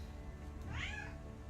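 A single cat meow in the game Mageseeker, a rising-then-falling mid-pitched cry lasting under a second, moderately close over a steady low background drone.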